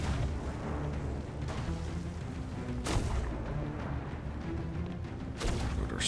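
Triple cannon fire in the pirate game Sea of Thieves, three spaced booming blasts standing out over a steady, rumbling background, moderately loud with no talk.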